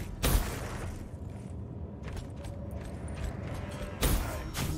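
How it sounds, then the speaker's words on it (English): A flashbang grenade goes off in the first-person shooter Black Ops 3, with two sharp, loud bursts several seconds apart over steady in-game background noise. "Oh, you've got to be kidding me with that flashbang."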